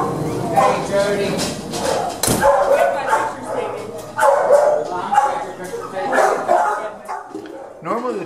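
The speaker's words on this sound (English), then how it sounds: "when the walkers arrive, the dogs get very excited and very loud" Dogs in a kennel bark excitedly as walkers arrive, loud overlapping barks and yips in rapid bursts, with a whimper at the end.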